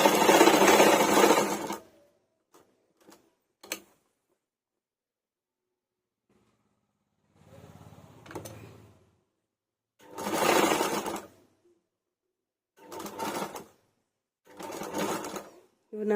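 A sewing machine stitches a long umbrella gown made from an old saree, sounding in a loud opening burst and then several shorter separate runs with quiet pauses between them.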